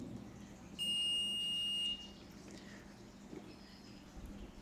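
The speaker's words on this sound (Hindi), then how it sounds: "ये देखिए आपको ये बीप सुनाई दे रही है" A digital multimeter on continuity mode tests a resistor: a single steady electronic beep lasts about a second, clear and close, against quiet room background.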